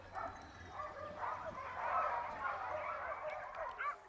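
Hunting dogs bark and yelp in a frantic, overlapping chorus while fighting a wild boar during a montería in the Spanish countryside, the yaps rising and falling at mid distance.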